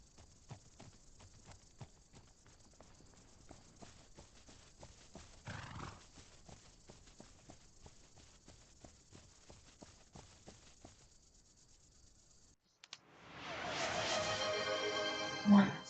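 A Barbie horse video game set in Mongolia, with a steady clip-clop of hooves at a walking pace and sparse background music, then a silent break and a loud neigh or whinny with game music near the end.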